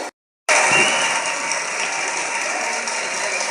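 An audience at a children's dance school event in Pondicherry breaks into loud, dense applause after a brief silent gap, sustained clapping that fills the hall without letting up.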